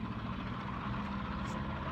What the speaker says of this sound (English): big loud truck